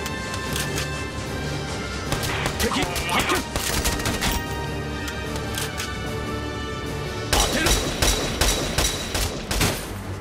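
Gunfire in the tactical game Valkyria Chronicles 4 rattles almost without pause in dense, overlapping bursts, with a louder, harsher volley near the end.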